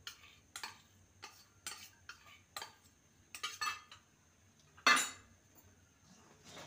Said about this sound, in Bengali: ভালো করে নাড়তে থাকবো।